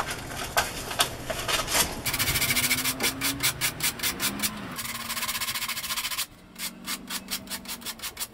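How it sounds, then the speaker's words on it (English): Rolled-up 100 grit sandpaper shapes a wooden intarsia fish by hand in steady rasping strokes, close and fairly loud, with a quicker, faster rubbing rhythm in the second half. "Then I rolled up my 100 grit to continue the final shaping."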